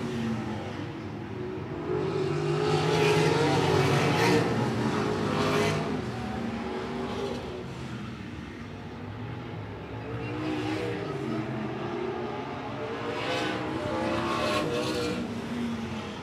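Sprint cars racing around I-76 Speedway, a broad steady roar of engines with swells as cars pass and brake into corners, heard under continuous commentary.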